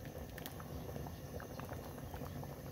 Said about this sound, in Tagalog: Kumukulo-kulo na.